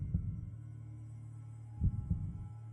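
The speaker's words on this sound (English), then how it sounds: "the heartbeat sounds a little bit faster" Low, thudding heartbeat from the Minecraft Decked Out 2 map, a few muffled double beats over a steady low hum, with the pulses falling close together near the end.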